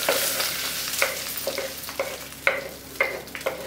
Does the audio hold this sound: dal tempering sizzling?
yes